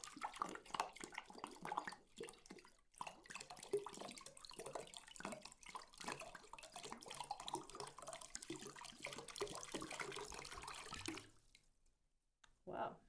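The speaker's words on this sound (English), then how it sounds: "I'm going to try and see how an empty bowl will sound when I tip a full jug of water into it" A full jug of water tipped into an empty bowl makes a continuous, close splashing pour that runs about eleven seconds before stopping, followed by a short quiet gap and a brief final sound.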